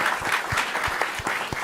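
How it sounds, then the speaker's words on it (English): A room full of people applauding a panel discussion on New York City parks and recreation, dense continuous clapping at a steady level, with a few louder individual claps poking through. "let's just give another round of applause for this amazing panel"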